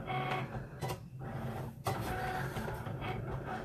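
Cricut cutting machine cutting out a shirt design, giving a steady mechanical whir with motor tones and faint clicks that runs continuously with brief dips, fairly close and alone without talk.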